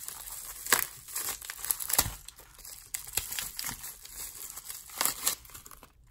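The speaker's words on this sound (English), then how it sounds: "So let's see if I can cut this one open" A wrapped football card pack is cut and torn open, giving a run of close, crinkly wrapper crackles and tearing rasps in uneven bursts, with no talking.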